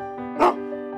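A cartoon dog gives a single short bark over steady background music in an animated Vietnamese folk-tale film, the bark loud and close at the middle of the clip.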